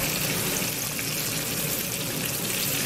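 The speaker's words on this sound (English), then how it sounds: "And we are still frying chicken." Continuous hissing and crackling sizzle of chicken frying in a pan, steady and close, with no voices.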